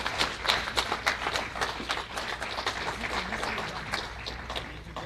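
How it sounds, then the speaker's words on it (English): Conference audience applauding its guest speakers at a Southern Cameroons gathering in the USA, a moderately sized room of distinct, crisp hand claps blending into an even, continuous patter that carries at steady volume across the whole stretch. "So let's give them all a round of applause."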